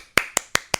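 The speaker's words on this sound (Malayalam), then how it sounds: "ഞാൻ ക്ലാപ്പ് ചെയ്തു." Four sharp hand claps evenly spaced in under a second, close and crisp, with no talking over them.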